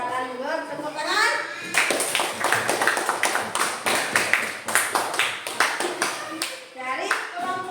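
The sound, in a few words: class clapping hands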